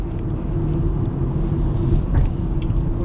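Ford Transit Connect LPG van driving in third gear, a steady low engine and road rumble heard from inside the cab with some wind noise, no talk.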